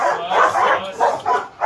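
A dog barks in a short run of about five rough, close barks, loud and uneven in spacing, with no other sound around them.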